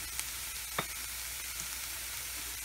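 Onion and turmeric powder frying in a pan for mutton liver fry, a faint, even sizzle with a couple of brief utensil taps, close and quiet.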